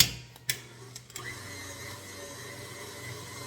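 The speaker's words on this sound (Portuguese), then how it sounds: "Pode baixar a velocidade da batedeira para acrescentar os ovos." A stand mixer whirs steadily at close range as it beats a chocolate butter cake batter with eggs being added. A few light clicks and knocks come at the start before the motor settles into an even hum.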